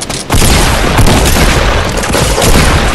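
A rocket explosion in a shooter video game comes through as a loud, distorted boom that rumbles across the whole clip, dense and continuous after a brief quieter start.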